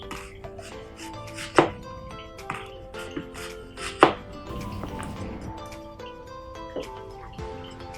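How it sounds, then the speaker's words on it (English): A knife slicing an onion into rings on a cutting board, with soft irregular chops and two sharper knocks, heard close and quietly with no talk. "So we'll just do some onion rings."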